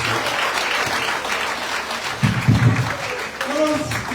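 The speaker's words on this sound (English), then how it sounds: "Let us give her another round of applause, please." Audience applause after a speech at a Sierra Leone political event, a steady mass of clapping throughout that swells louder near the middle, with no talking over it.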